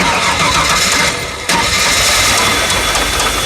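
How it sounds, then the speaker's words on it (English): A Ford Taurus engine cranks over and starts, a loud close burst of churning mechanical noise with a brief dip before it settles into a steady running roar. "We're gonna go ahead and crank it over."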